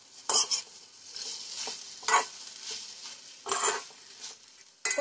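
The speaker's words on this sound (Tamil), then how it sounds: "இது நல்லா அப்படியே வறுத்து எடுத்துக்க வேண்டியதுதான்." Raw plantain fries in an iron pan under a soft sizzle, broken by several loud bursts of spatula stirring and scraping at close range, with no talking.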